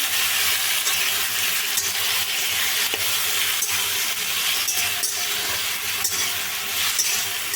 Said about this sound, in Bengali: কেটে রাখা টমেটোটা দিয়ে একটু ভালো করে নেড়ে নিচ্ছি কেটে কেটে নেড়ে নিচ্ছি